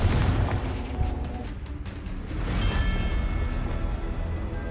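Confringo fire spell from the wizarding game Hogwarts Legacy, a loud booming blast with dense low rumble across the clip, amid other in-game combat noise.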